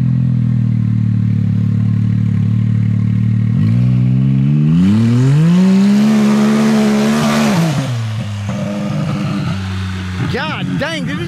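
Off-road side-by-side engine revving hard with nitrous engaged, a steady loud idle climbing into a rising, roaring rev that peaks and drops back, with sharp spikes near the end; people talk over it.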